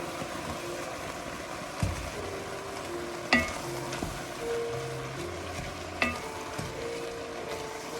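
Boxed white Pinot Gris poured into a hot pan to deglaze it for cabbage soup gives a steady, broad sizzle and bubbling hiss, with occasional clinks of a utensil against the pan. No voices.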